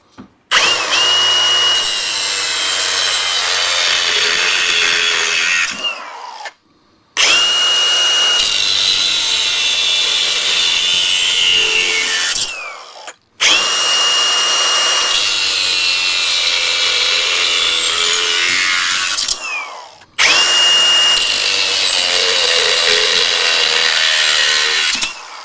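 Metal mounting bolts on a Gen I Dodge Dakota brake booster upgrade are cut to length with a power tool, four loud sustained grinding-cutting bursts separated by short pauses, close by with no talking.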